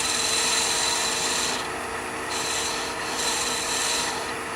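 Steady scraping of a wooden finial turning on a lathe, a continuous loud rasping hiss with slight swells and dips in intensity, heard alone with no talk.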